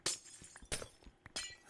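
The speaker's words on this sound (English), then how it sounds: "It's weird that glass is slower to break than stone." Glass blocks shattering in Minecraft, three separate crisp breaking bursts with clinking tails spread across under two seconds, fairly quiet with no talk.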